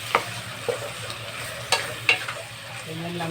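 Pork stirred with two spoonfuls of bagoong in a frying pan for Bicol Express: a few sharp utensil scrapes and clacks spaced through a low background sizzle, close and moderately loud.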